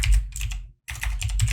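Close, crisp keyboard typing as text is entered for a program's user input prompt, two dense bursts of rapid key clicks split by a brief silent pause.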